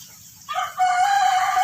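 A green junglefowl crows close by: one loud, harsh, drawn-out call that rises after a short opening note and holds strongly to the end over quiet background noise.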